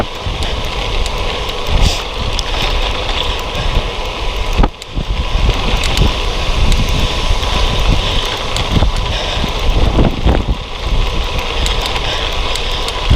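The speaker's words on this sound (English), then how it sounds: "Getting very windy." Strong wind buffets the microphone of a cyclist riding along a country road, a steady loud rushing roar with gusty bursts throughout.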